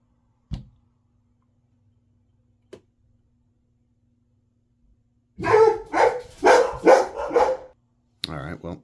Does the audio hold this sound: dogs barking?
yes